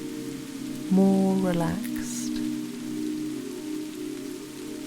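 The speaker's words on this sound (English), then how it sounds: "With each soft patter of the rain, you feel your body grow heavier" Soft rain patters in a faint, steady bed beneath a calm voice speaking over sustained, gliding tones.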